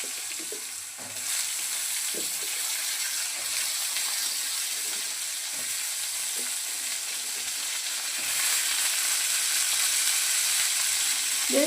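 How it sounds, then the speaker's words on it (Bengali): Pointed gourd pieces frying in oil, a steady close sizzle with occasional stirring scrapes and soft knocks, growing a little louder toward the end. "এখন ওই তেলে পটলগুলোকে ভেজে নেব।"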